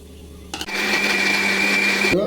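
A mixer grinder loaded with ginger, onion, garlic and coconut kicks on after a brief rattle, then roars with a steady high-pitched whine for almost two seconds before cutting off, loud and close.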